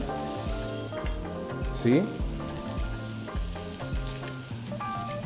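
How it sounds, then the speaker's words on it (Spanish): Onion rings fry in a pan with a steady, close sizzle, punctuated by light stirring scrapes; a brief voice is heard once. "vamos a colocar que los aritos de cebolla"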